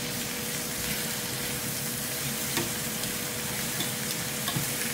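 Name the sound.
meat frying in its own fat in skillet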